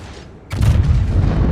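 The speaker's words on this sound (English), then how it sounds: "Shots out again." The battleship Musashi's big guns firing in the World of Warships video game, a sudden loud boom that rolls into a heavy sustained rumble, with no talk.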